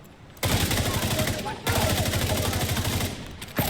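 Heavy gunfire from a big gun in The Division 2 video game, two loud sustained bursts of rapid shots with a brief pause between them.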